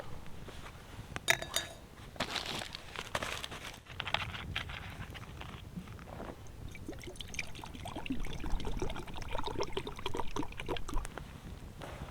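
Water poured into a metal pot at a cheap outdoor campsite beside a fire, a trickling, splashing pour mixed with clinks and clatter of cookware, close and moderately loud without speech.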